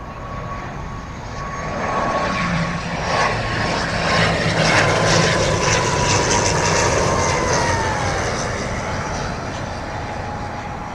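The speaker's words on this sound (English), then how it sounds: "First, a Logan Air from Isle of Man, ATR 72-600." A Loganair ATR 72-600 turboprop arriving at London Heathrow roars loudly and steadily overhead, a broad engine drone with a propeller whine that swells and then slowly eases, with no talking.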